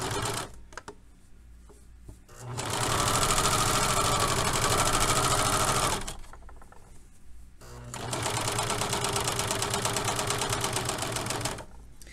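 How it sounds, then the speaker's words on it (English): Domestic sewing machine stitching a crotch seam on trousers and trimming the loose threads, two steady whirring bursts of about three and four seconds, close and loud, with a short quiet pause between and no talk. "I gather all the loose threads to the side so that my machine will just trim them off for me."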